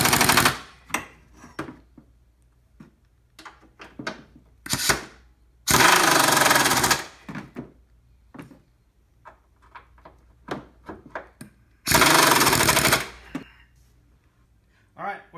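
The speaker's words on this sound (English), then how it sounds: "I'm just going to snug them up with the air wrench." An air impact wrench snugs the strut bolts on a Honda Odyssey in two loud, sustained rattling bursts of about a second each, between clanks of tool handling and someone speaking.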